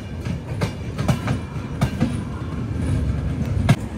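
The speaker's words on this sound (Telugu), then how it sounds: "ఇక్కడ మన ట్రైన్ అయితే స్టార్ట్ అయిపోయింది" The Cocanada SF Express passenger train runs on rails, a steady close rumble with irregular clickety-clack wheel thumps over rail joints as it rolls along.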